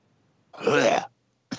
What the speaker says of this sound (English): Here I'm trying to not cough, and then you cough over me.